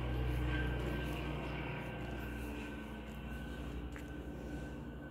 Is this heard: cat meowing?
no